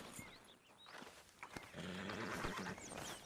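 A horse in the video game Red Dead Redemption 2 whinnies and snorts up close, with soft hoof clops and shuffling mixed in over a few seconds.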